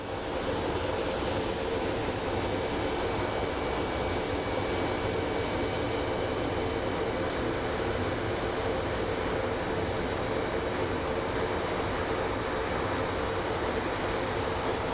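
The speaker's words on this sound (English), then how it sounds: "here comes our flight from whatchamacallit, Minneapolis" An airliner arriving at Phoenix Sky Harbor airport on a flight from Minneapolis, heard as a steady, unbroken broadband engine roar that holds at an even level throughout.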